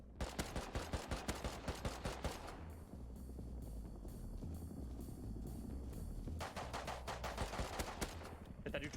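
Rapid bursts of video game gunfire, loud and dense, crackling in clusters at the start and again near the end with a steadier rumble of game noise between.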